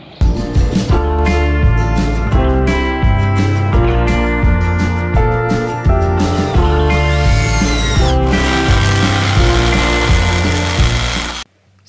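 A power tool driving screws to fix a gutter into concrete, whirring loudly and continuously in close repeated pulses with rising and falling pitch before cutting off at the end.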